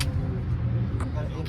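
A street car's engine rumbles low and steady close by, with a few brief faint knocks over the top.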